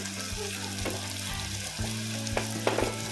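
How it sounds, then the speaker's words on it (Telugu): Curry leaves, onions, green chillies and ginger fry in oil with a pinch of asafoetida, giving a continuous crackling sizzle and a few clinks and scrapes near the end, moderately quiet, heard alone under a steady low hum. "కరివేపాకు ఆనియన్స్ పచ్చిమిర్చి ఇవి అల్లం ముక్కలు అన్నీ వేసి ఇలా వేసుకోవాలి"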